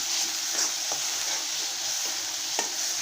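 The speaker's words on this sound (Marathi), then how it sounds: "हे मसाल्याला असं तेल सुटेपर्यंत परतून घ्यायचं आणि हे लोखंडाच्या कढईत करण्याचं कारण" Spice paste sizzles steadily in hot oil in an iron wok while a spoon scrapes and stirs it in a few quick, irregular strokes; close and fairly quiet.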